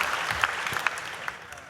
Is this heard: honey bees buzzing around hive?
no